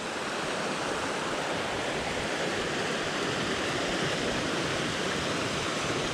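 Steady rushing water fills the scene, a continuous broadband roar like a fast, clear, cold creek tumbling over rocks in the Great Smoky Mountains, close and loud with no voices.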